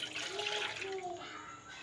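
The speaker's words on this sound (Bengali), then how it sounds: "একটা পাত্রে চিনির রস করার জন্য 1 কাপ, বড় কাপের 1 কাপ জল নিয়ে নিলাম" Water pouring steadily into a pot for sugar syrup, a continuous soft rushing splash at close range that tapers slightly toward the end.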